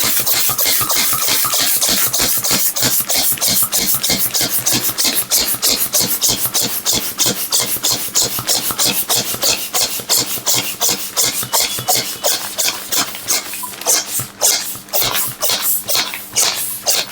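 A vacuum pump draws air out of a storage bag holding a pillow, producing a loud, continuous run of rapid rhythmic pulses that carries on steadily throughout, with no talking.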